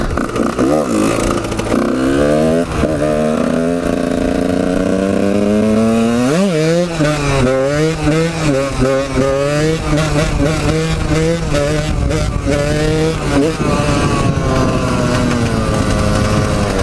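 A motorcycle engine revs during wheelie practice, loud and close, with the throttle blipped and held so the pitch climbs and wavers in repeated surges.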